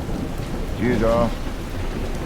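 Heavy rain pours with wind in a thunderstorm, a steady close roar throughout, with a brief voice speaking over it midway.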